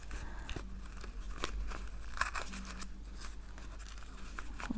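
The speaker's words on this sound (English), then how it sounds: "Seems like the scissors aren't actually helping that much." Scissors snipping and slashing through paper while making tattered paper chenille, giving a series of sharp, irregular crisp cuts and crinkles at close range, fairly quiet and with no talk.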